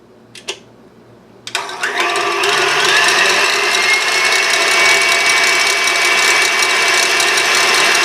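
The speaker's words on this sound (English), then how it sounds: "now I'm going to turn the mixer on high and I'm going to start adding my sugar a tablespoon at a time" Electric mixer running on high while whipping meringue, a loud, steady mechanical whir with a fast ratcheting buzz that kicks in after a couple of brief clicks and keeps going, close and alone.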